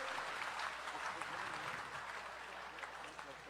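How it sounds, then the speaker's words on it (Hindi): An audience at a bhajan event in Shri Vishnu Mandir, Bangkok, claps steadily throughout, a dense unbroken patter of many hands at moderate distance with no breaks. "जोरदार तालियों से अभिवादन करेंगे"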